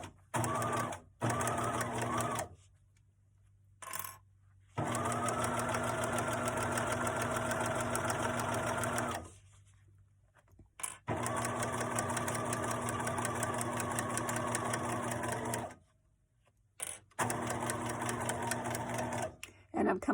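A sewing machine stitches lining fabric along a foam piece for a make-up bag, running in several loud, steady bursts with short pauses between them while a person talks over parts of it.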